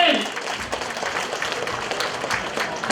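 Warm applause from a community fundraiser crowd greets a council member's aide stepping up to speak, a dense patter of clapping that carries on for the whole moment, with some voices mixed in.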